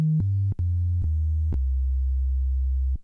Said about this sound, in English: it's a dirty sine. Like, it's not a pure sine wave.